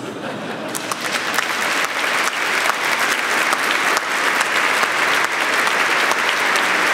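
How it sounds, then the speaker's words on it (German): Loud, sustained applause from an audience at a shoe-industry award ceremony, building slightly and holding steady throughout with dense clapping and no speech. "Applaus"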